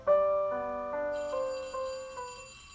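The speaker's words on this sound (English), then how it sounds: "that was the school bell, I guess" A video game school bell rings out as a sequence of clear, sustained electronic chime tones, stepping through several pitches over about three seconds, loud and alone.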